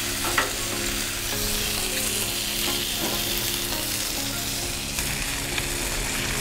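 Steak sizzling steadily on a Blackstone griddle heated to around 450 degrees, a continuous close frying hiss with a few brief spatula clicks as the meat is flipped, no talking.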